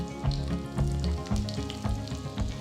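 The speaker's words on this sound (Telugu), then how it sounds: "సో ఆవాలు చిటపటలాడుతున్నాయి" Mustard seeds splutter in hot oil for an Andhra-style tempering with crushed garlic, dried red chillies and asafoetida, giving a continuous close sizzle dotted with frequent sharp pops and crackles.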